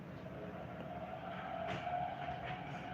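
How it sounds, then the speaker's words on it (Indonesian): A passenger train rolls past a station in Indonesia, a steady rumbling rush with a rising metallic whine and brief rattling clacks as the cars go by, fairly close and loud. "Nah, ini ada kereta lagi nih guys."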